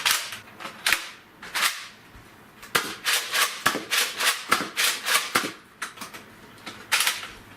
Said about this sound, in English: next up for the firing test in the order of FPS is the Rampage